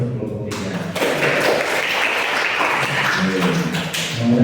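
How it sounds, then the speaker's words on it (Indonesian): A classroom group claps for group 3, with a steady stretch of applause from the students, moderately loud, with a voice speaking briefly over the start. "berikan aplaus untuk kelompok 3"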